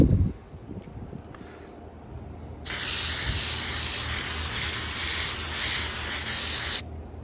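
A hand-held aerosol spray can with a troublesome nozzle, used outdoors, sprays in a single steady hiss of about four seconds after quiet outdoor background.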